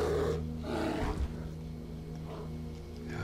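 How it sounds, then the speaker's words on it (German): A bear in Skyrim lets out a deep, rumbling roar, followed by a couple of shorter growling snarls, heard fairly close and on its own. "Ein Bär."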